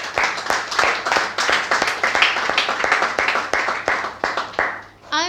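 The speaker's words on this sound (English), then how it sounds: "clap." An audience at a Lahore English-language institute breaks into rapid, close applause, dense bursts of hand claps that run for several seconds before fading out at the end.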